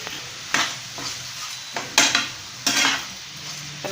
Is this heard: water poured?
no